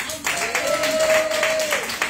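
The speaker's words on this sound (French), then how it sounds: "On peut l'applaudir." Applause from the audience at an evening celebration gathering, a dense patter of hands clapping steadily at moderate distance, with a sustained tone and some voices mixed underneath.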